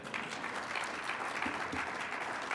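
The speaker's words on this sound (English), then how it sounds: "that bears clapping" Moderate audience clapping at an education event, steady and continuous for a couple of seconds, with a few sharper individual claps standing out.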